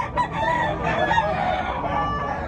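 A rooster crows loudly and continuously across a dense, noisy background of other birds and farmyard clamor at a chicken expo in Tabunok, Talisay, Cebu.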